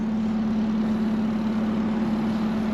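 A car engine idling with a quiet exhaust system, a steady low hum with a strong constant drone that stays even and unchanging, close by and with no voices.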